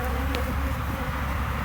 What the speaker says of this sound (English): Man, that's a lot of bees.